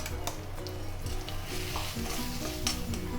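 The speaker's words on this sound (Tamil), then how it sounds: "மாங்காய் வந்து நல்லா வதங்கி எடுத்து பாருங்கள்" Chopped mango sizzles and fries in a pan while being stirred, a steady close crackle with occasional scraping of the spoon against the metal.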